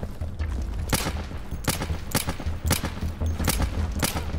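Rapid bursts of gunfire in the game Insurgency crackle continuously over a dense rumbling background, shots coming in quick irregular clusters throughout.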